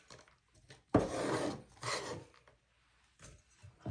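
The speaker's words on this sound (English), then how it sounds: "If you don't have one of these scraper things, you need one." A kitchen scraper scrapes ingredients for a cranberry jello salad around a bowl. Three or four close, gritty rubbing strokes come with short pauses between them.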